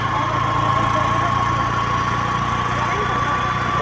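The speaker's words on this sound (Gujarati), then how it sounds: "બાઇકનો અવાજ પણ તમને સંભળાઈ રહ્યો હશે" A motorcycle engine labours up a steep incline in first gear, a steady close drone with a strained whine running continuously throughout.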